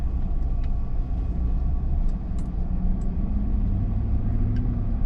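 Car driving along a road at about 20 mph, a steady low engine and road rumble running throughout at a constant level with no talking.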